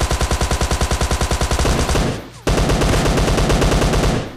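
Rapid automatic gunfire in PUBG Lite, loud and close, a fast burst of regular shots that pauses briefly and then resumes at the same pace.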